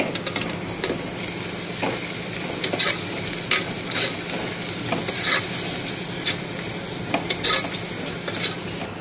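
Salt and spices being stirred into frying mutton gravy with onions, a continuous sizzle under irregular scraping strokes of a spoon against the pan, close and steady throughout.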